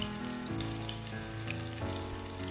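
Chopped green chilies sizzle in hot oil while a spinach chicken dish is being cooked, a faint, steady crackle with sparse pops sitting beneath continuous background music.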